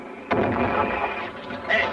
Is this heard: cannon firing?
yes